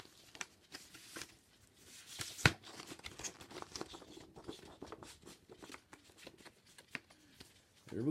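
Close crinkling and tearing of paper being unwrapped from a Hells Headbangers package in short irregular bursts, with one sharp rip midway and soft handling noises between.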